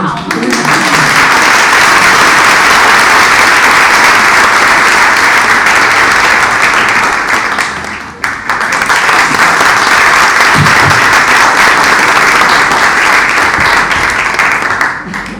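An audience at an event applauds loudly and steadily for about fifteen seconds, a thick, close wash of clapping with a brief momentary lull midway before resuming at full strength.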